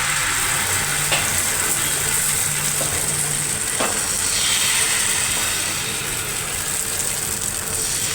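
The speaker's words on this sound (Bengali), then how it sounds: "এখন এই পাটিসাপটার মিশ্রণটা ঢেলে দিলাম।" Patishapta batter sizzles steadily in a ghee-greased pan, a close, even frying hiss that holds for the whole stretch with a faint low hum beneath and no talking.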